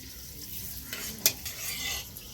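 Whole cardamom, cinnamon sticks, cloves and a bay leaf sizzle softly in hot oil for a Badami Murg Handi, with a steady low frying hiss and a single sharp clink of a utensil partway through.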